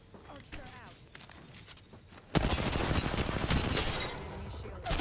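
Video game gunfire opens with scattered shots beneath faint chatter, then erupts into a loud, dense, continuous burst of rapid fire that carries on for several seconds.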